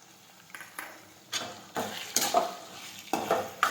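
Green garlic being sautéed in a pan for an okra dish: a spoon scrapes and stirs in irregular bursts over a soft, steady sizzle, close and moderately loud, with no talking.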